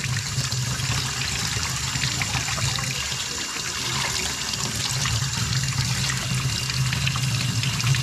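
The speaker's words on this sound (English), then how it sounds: "So you'll want to wash it from the inside out with the water." Tap water rinses a K&N air filter from a 2017 Subaru WRX from the inside out, a continuous close splashing trickle and pour with no talk.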